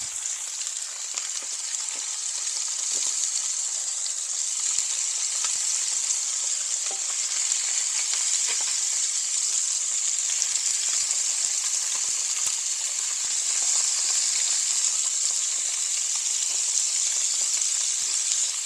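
Meat sizzling steadily in a pan as it is basted, a loud continuous frying crackle with scattered pops and spatters and no voices.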